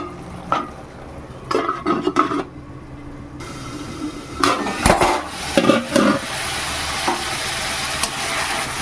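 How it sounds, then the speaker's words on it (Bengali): Tomato spice masala being sautéed and stirred in a pan for a fish curry, with steady sizzling under intermittent scraping and clinking of a spatula against the pan, close and fairly loud. "আর একটু কষিয়ে নেবো ভালো করে টমেটোগুলো প্রায় সেদ্ধ হয়ে এসছে"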